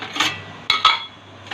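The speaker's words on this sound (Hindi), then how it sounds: "ये सारे बर्तन पहले मैं उठा लेती हूँ" Utensils and dishes being picked up in a home kitchen while clearing space, with a few sharp clinks and clatters in quick succession against a quiet background.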